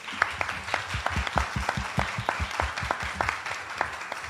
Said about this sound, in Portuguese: Vou pedir uma salva de palmas a todos.